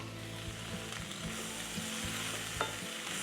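Garlic sizzles in a pan with chicken, giving a steady low frying hiss with faint rhythmic scraping ticks as it is moved around.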